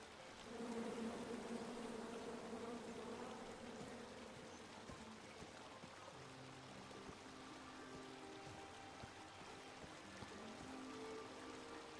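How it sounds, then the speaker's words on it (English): Insect buzzing of a bee swarm in the King's Quest adventure game, a steady droning hum that holds throughout at moderate level with faint trickling water beneath and no speech. "Come at me, bees!"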